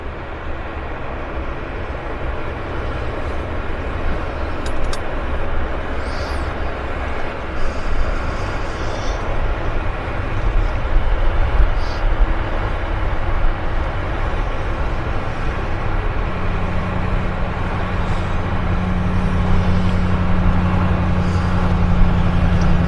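An Air Canada Dreamliner takes off at Vancouver Airport, heard as a broad distant engine roar that builds steadily and grows louder, with a low droning tone emerging in the later part.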